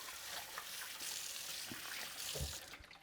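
A kitchen tap runs steadily while hands are washed under it, a soft continuous hiss of flowing water with faint splashes, close and fairly quiet, with no talking.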